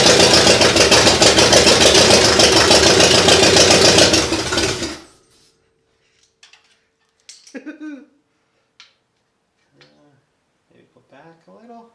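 A Buick 401 Nailhead V8 runs loud and rough for about four seconds, then cuts out abruptly. Scattered clicks, knocks and faint workshop noises follow in near silence.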